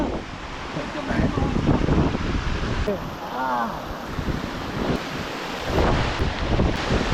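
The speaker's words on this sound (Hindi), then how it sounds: "तो वैसा ये रहा फाइनली वो वाटरफॉल जिसके लिए आए थे हम" A waterfall near Badrinath among snowy mountains gives a steady broad rushing roar, with wind buffeting the microphone and a brief voice partway through.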